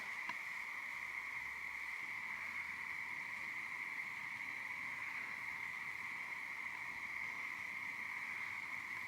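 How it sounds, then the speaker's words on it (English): A continuous high-pitched chorus of frogs calling from a distance at a night campsite in Olympic National Park, steady and unbroken, with a faint low murmur underneath and no talking. "all you can hear right now is just frogs croaking and the fire popping."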